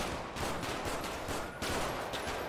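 Dense automatic gunfire rattles through a video game scene, a steady barrage of rapid shots that briefly drops out just before the middle, then resumes at full loudness.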